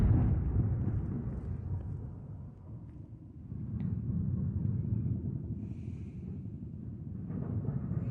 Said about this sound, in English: She sent us audio recordings of explosions going on.